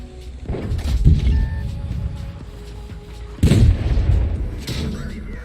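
Tank cannon shots in World of Tanks: two heavy booming blasts about two seconds apart, each followed by a rumbling tail over steady engine drone.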